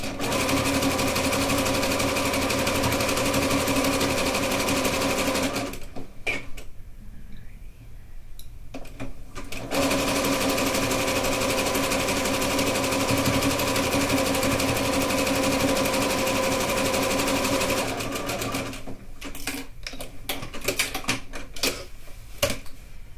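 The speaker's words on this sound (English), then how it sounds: "Now notice that I am sewing on the wrong side of the trim fabric." A sewing machine stitches trim fabric for a cuddle rag quilt, running in long rapid mechanical bursts with a brief pause partway through, loud and close with no talking.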